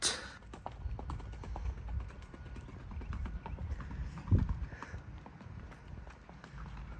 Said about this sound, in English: Very cool to have a male riding a horse.